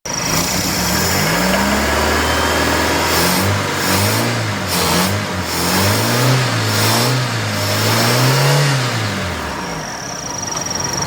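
An aging Mitsubishi Lancer engine runs steadily nearby, its low hum rising and falling in pitch with a few revs, loud and alone.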